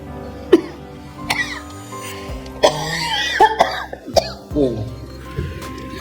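Several sharp, short coughs break out in a dramatic scene, spaced irregularly through an emotional exchange and under the talk of people speaking close by.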